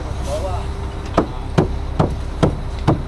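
Five sharp hammer blows land at a steady pace over constant background noise, each strike crisp and near, at a job site building concrete steps with a ramp.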